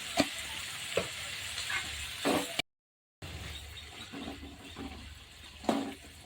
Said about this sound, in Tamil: வெங்காயம் வெந்துட்டு இருக்க சிம்மில் வெந்துட்டு இருக்கோம்